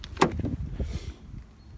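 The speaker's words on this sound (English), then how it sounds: "4-door electric windows, as I just said, electric windows" An electric window on a Nissan Navara 2.5 double cab pickup works in a short burst of motor whir and a closing clunk, close and fairly quiet, with no talking.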